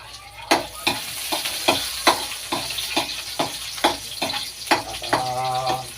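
Onion and garlic sautéing in a pan, a steady sizzle broken by repeated scrape-and-stir strokes of a spatula at a brisk rhythm, close and loud with no talking.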